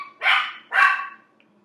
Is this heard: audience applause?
no